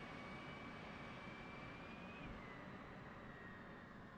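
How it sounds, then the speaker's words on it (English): An F/A-18C auxiliary power unit running in the DCS flight simulator, a steady, faint turbine whine and rushing drone with a thin high tone that dips slightly midway, heard alone. "Now that the APU is on"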